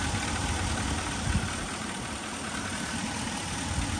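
Hemi 5.7 V8 car engine idling quietly, a soft steady hum under broad hiss, low and even with one brief swell, no talking.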